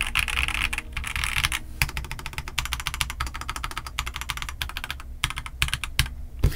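Close typing on an XVX S K80 mechanical keyboard: steady streams of quick clacking keystrokes with a few brief pauses, set over a low background hum, with no one speaking.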